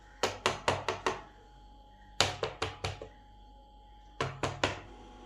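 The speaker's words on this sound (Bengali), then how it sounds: "বাটিগুলো একটু ট্যাপ ট্যাপ করে দিই, যদি ভেতরে ফাঁকা থাকে তা পূর্ণ হয়ে যাবে।" Bowls of coconut rice cake batter are tapped on a surface in three quick bursts of about four to five hollow knocks each, close and distinct with short pauses between.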